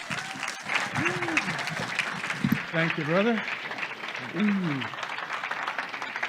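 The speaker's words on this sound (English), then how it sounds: "Please give him a warm round of applause." An audience applauds to welcome a guest speaker at a talk, steady clapping throughout while someone speaks briefly and voices carry over the crowd.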